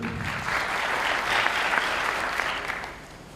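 A room of attendees at an innovation and entrepreneurship advisory board gathering applauds a welcomed guest, steady clapping that swells slightly in the middle and tapers off toward the end, with no speech over it.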